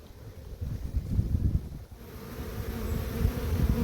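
Honeybees droning around a hive being prepared for winter, a dense low steady buzz close by with some wind rumble, no voices.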